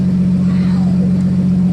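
A car engine runs steadily close by, a constant low hum filling the whole stretch without pause.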